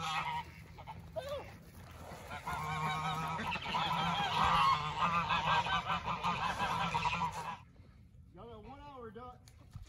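Many geese honk at once in a noisy, overlapping chorus, close by, then fade to a few scattered calls after a voice speaks.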